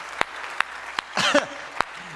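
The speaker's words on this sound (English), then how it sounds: "I think that's worth clapping for every single time." Sharp isolated claps ring out at intervals in a church setting, with a brief burst of cheering and voices in the middle, loud and close.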